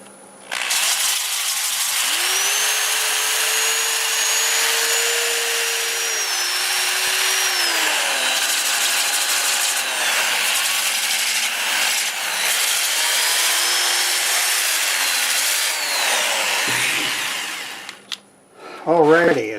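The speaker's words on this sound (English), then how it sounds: "I'm going to go ahead and get it all sanded up" A turned catalpa wood piece is sanded as it spins on a lathe, giving a loud, continuous whirring hum with shifting tones as the abrasive moves across it, then the machine winds down near the end.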